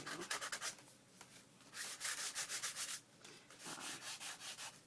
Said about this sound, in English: I'm going to buff it right to the edge here